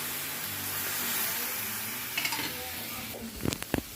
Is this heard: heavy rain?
no